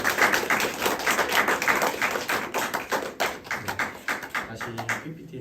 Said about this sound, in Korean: 다시 한번 큰 박수를